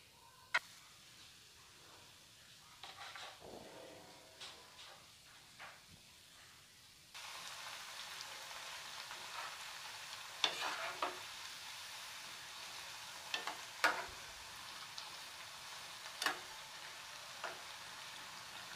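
Bread cubes drop into hot oil in a kadai and fry with a steady, quiet sizzle and hiss that grows louder partway through, with scattered small pops and clicks.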